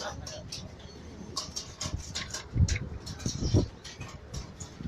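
Racing pigeons coo and flutter amid a busy, noisy space, with people talking nearby and scattered clicks and thumps throughout.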